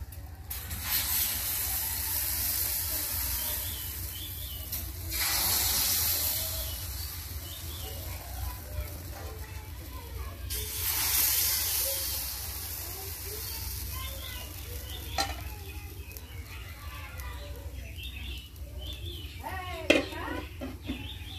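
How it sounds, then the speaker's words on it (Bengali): Batter for date-juice milk pitha poured onto a hot griddle, hissing in broad sizzling bursts that swell and fade several times, close and steady, with someone talking over parts of it and occasional clinks near the end. "তাওয়াটা তেতে গেছে, তারপর আমি আস্তে আস্তে পিঠাগুলো দিয়ে দিচ্ছি।"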